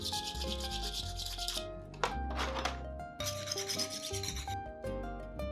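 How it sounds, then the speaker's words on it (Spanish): A desbastador tool scrapes and trims a handmade ceramic bowl up close, in bursts of dry raspy rubbing separated by short pauses, with quiet tonal background sounds underneath. "La pieza puede quedar rústica o corregirle las imperfecciones mediante el desbastado, con una herramienta que es el desbastador"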